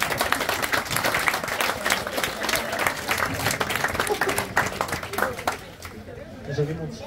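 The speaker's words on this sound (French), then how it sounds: "On peut les applaudir, merci." Audience at a stage hypnosis show bursts into sustained, dense applause, loud and continuous, with crowd chatter mixed in and tapering near the end.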